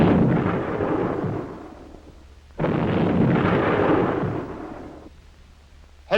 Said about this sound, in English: Rising lost no time in sailing down to Fort Casimir and opening fire.